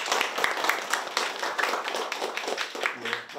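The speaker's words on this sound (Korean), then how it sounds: "다시 한번 큰 박수 부탁드립니다." An audience at a Korean lecture event claps in a crowded hall, a steady patter of many hands at moderate level, with a brief low hum near the end.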